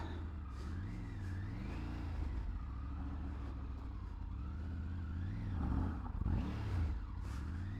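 A Tiger car revving for a burnout on gravel, its engine pitch rising and falling in repeated surges and swelling louder near the end, heard from a moderate distance with no talking.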